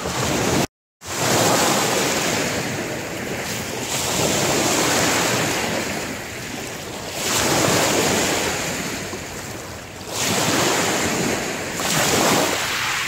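Waves break in steady, rolling surges on the shore at Port Bruce on a foggy morning, each swell swelling and easing in turn with wind rush over the microphone and no talking.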